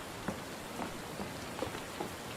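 Rain falls in the video game ADACA as a steady, soft hiss of drops landing on surfaces. Faint scattered taps rise above the hiss.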